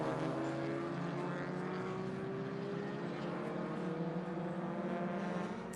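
A 1965 VW Bug race car runs on a circuit, its engine a steady, continuous drone with shifting pitch, heard at a distance among other track noise throughout.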